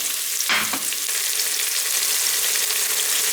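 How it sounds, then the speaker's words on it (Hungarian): Chopped onion frying in an electric pressure cooker on its sauté program, a steady close broadband sizzle with a brief stirring scrape near the start. "megpirítom egy picit a hagymát, vagy megdésztelem a hagymát, amit apróra vágtam"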